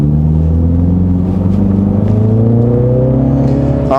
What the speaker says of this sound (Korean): 순수 스포츠 모드로 했을 때 좀 어떤 느낌을 주는지 한번 좀 차를 움직여 보겠습니다